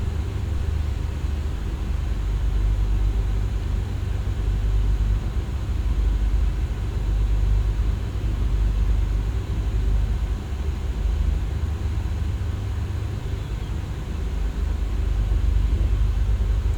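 Aircraft in X-Plane 11 rolling along a runway after landing, a steady low rumble and broadband engine roar holding constant throughout with no voices.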